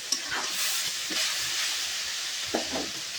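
Pieces of mutton drop into hot oil that has turned red, giving a steady broadband sizzle and hiss throughout, with a few soft clatters and bumps from the pan.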